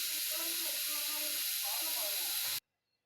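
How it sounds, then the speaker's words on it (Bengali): Garlic and onion frying in a second kadai for a tempering over kalai dal: a bright, steady hiss and crackle that cuts off abruptly, leaving near silence at the end. "বাগার দেওয়ার জন্য রসুন আর পেঁয়াজ ভেজে নিচ্ছি অন্য একটা কড়াইতে"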